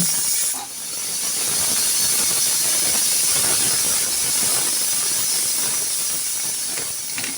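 A pressure cooker whistles, releasing a loud, steady jet of hissing steam that runs almost unbroken for several seconds after a brief dip at the start.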